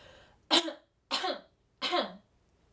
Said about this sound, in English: at the top level, you're gonna cough 3 times